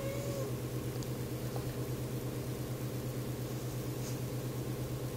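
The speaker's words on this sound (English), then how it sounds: "My cat is in the heat." A 10-month-old female cat in heat meows indoors, the call set against a steady low mechanical hum that runs throughout.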